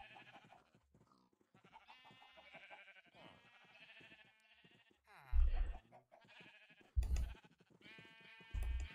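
Sheep bleat loudly three times in Minecraft, spaced apart, over a steady backdrop of busy game music and effects.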